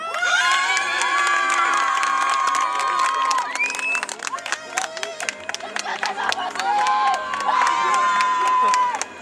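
Crowd at a show jumping competition in Saint-Lô cheers and applauds the Normandy champion rider heading to the podium, a loud sustained roar with shouts, and a public-address announcer's voice speaking over it.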